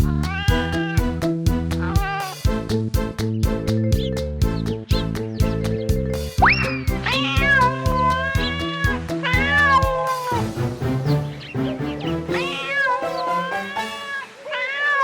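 A cat meows repeatedly and insistently in a rapid series of high, drawn-out cries, some rising into wails, over a steady musical background.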